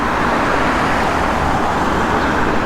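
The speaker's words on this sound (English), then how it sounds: "Fair bit of traffic." Steady, dense roar of city boulevard traffic in Riga, Latvia, a loud unbroken wash of passing cars with no gaps.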